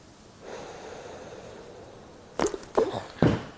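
Patient drawing a deep breath during a cervical spine manipulation, a faint airy inhale followed by three sharp, loud bursts close to the mic, with no talking.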